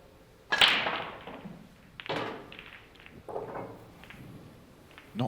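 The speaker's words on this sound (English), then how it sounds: "he's breaking off in this frame" A pool break-off shot in a Pro Cup match: one sharp, loud crack of the cue ball striking the pack, then scattered softer knocks as balls spread and strike each other and the cushions.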